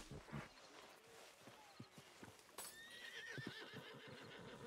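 A horse in Red Dead Redemption 2 gives a loud, close whinny, then its hooves clip-clop in a steady walking rhythm with snorts and rustling, and no one speaks.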